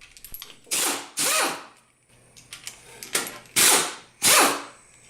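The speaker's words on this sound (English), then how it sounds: "Use an impact wrench with an 8mm hex to remove the 8 inner cover retaining bolts." An impact wrench with an 8mm hex removes inner cover retaining bolts on an MWS pump, firing several loud close hammering bursts of about half a second each, separated by quieter mechanical clicks.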